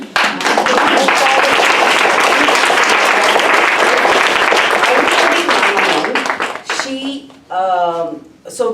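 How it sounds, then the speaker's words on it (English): Loud sustained audience applause at a youth retreat skit in Tampa, dense clapping filling about six seconds before tapering off, followed by a person speaking. "Everybody needs their applause here, but Arundhati Ramanan, okay?"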